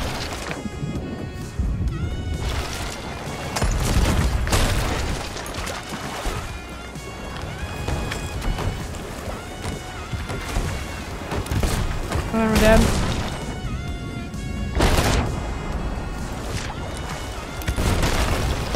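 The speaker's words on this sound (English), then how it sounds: "The sloop is shooting at us." Cannons boom repeatedly in a naval battle between a sloop and a brig in the Sea of Thieves game, loud irregular blasts and crashes over sloshing water and game noise, with voices talking throughout.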